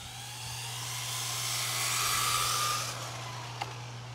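Traxxas 4Tec 2.0 RC cars, a Ford GT among them, drag race on an evening run, their electric motors rising into a high whine that swells and then fades over a steady low hum.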